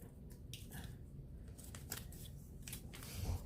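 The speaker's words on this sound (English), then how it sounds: "So I'm cutting it and rounding it off and cutting it and cutting it" Curved scissors snip repeatedly while cutting a round shape for a Puerto Rican Christmas decoration, giving a quick series of faint, close crisp clips.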